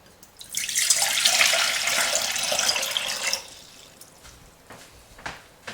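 Water poured from a container into a pan on a stove, a loud continuous splashing pour lasting about three seconds that stops abruptly, followed by a few faint clinks and drips.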